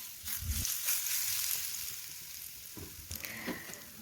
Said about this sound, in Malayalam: ഇനി ഈ പഴം നന്നായിട്ടൊന്ന് വഴറ്റിയെടുക്കണം. അതിന് വേണ്ടിയിട്ട് ഒരു പാൻ അടുപ്പിൽ വെച്ച് പഴം വഴറ്റാൻ ആവശ്യമായിട്ടുള്ള ഓയിൽ ഒഴിച്ചു കൊടുത്തു.